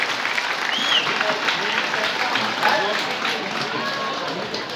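Schoolchildren at a block-level rural Olympic games opening ceremony clap together in a broad, steady round of applause that swells and then gradually fades, with faint speech blending into the clatter.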